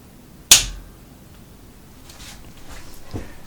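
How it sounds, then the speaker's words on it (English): A single sharp snip as a bicycle brake cable is cut about 1.5 inches past the caliper on caliper brakes, followed by faint handling noises. "Now we're going to cut the cable off."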